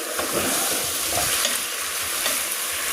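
Pork frying in oil until golden brown, with a steady close sizzle and crackle of hot oil and occasional stirring scrapes throughout.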